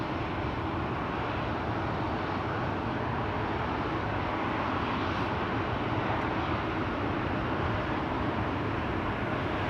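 An ITA Bombardier C-Series airliner at Amsterdam Schiphol airport gives a steady, distant jet roar that holds at an even level throughout, with no voices.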